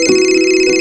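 A phone rings indoors at home with a short, steady electronic tone made of bright stacked pitches, heard alone for under a second.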